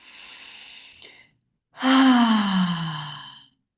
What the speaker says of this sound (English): Let's take a breath in.